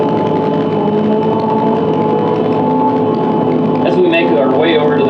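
Gleaner combine harvester engine running steadily inside the cab while driving to the field, a constant droning hum with a faint rattle near the end, heard under a voice talking.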